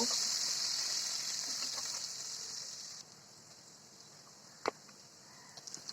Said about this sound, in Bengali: এখন মাছ ভোনার জন্য পেঁয়াজ কুচি দিয়েছি